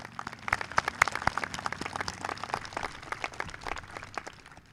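A graduation ceremony audience claps steadily for several seconds, a dense, fairly faint patter of applause heard from a distance with no talking over it.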